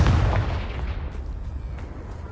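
A Confringo blasting spell detonates in Hogwarts Legacy, a loud booming blast up front that trails off into a rumbling, crackling decay with a few faint pops.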